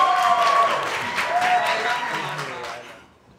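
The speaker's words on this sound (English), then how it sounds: "Come on, show a round of applause for Sarah." A theatre crowd at a monologue slam applauds a performer being introduced, dense clapping that holds steady and then tapers off toward the end, with a few tonal sounds mixed in.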